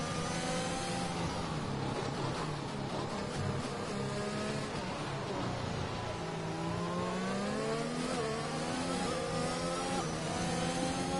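Race cars overtaking in a realistic sim racing game, with engines droning and revving continuously and loudly, pitch rising and falling through gear changes as several cars jostle for position, with faint talk underneath.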